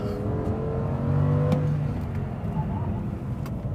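A car engine pulling hard in fifth gear on a race track at Lydden: a steady loud droning roar with a rising tone, continuous throughout.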